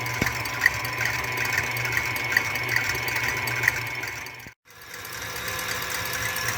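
An electric mixer whips egg whites for meringue with a steady, close motor whir. The sound cuts out briefly, then resumes at the same even pitch.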